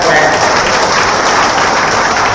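Loud, dense applause from a large crowd at a Lav Kush Jayanti rally in Gwalior, a steady roar of clapping with no breaks, close and filling the space.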